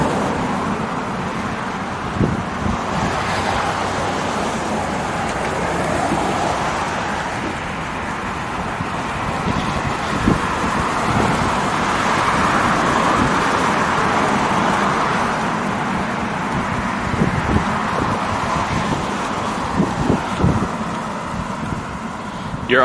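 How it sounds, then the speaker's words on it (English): Loud car traffic beside a city sidewalk: a steady roar of passing vehicles and tire noise with wind buffeting the microphone, several cars swelling past up close, and a voice occasionally talking under the din. "it's just that the cars are loud"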